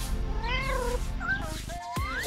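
Kittens meow repeatedly in high, rising and falling cries, several overlapping calls close by in a busy room, with a soft broadband background throughout; one drawn-out mew near the end sweeps upward.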